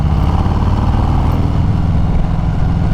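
A 2019 Harley-Davidson Sport Glide rumbles loudly and steadily from close by while cruising in fifth gear at about 45, with deep, even engine throb throughout.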